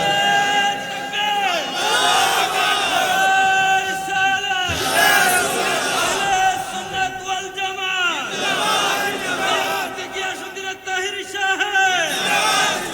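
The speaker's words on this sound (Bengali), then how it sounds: "একটা স্লোগান দাও।" A large crowd at a Bengali religious sermon (waz) roars a chanted slogan in loud, repeated swelling shouts, with an amplified voice leading between the bursts in a reverberant open setting.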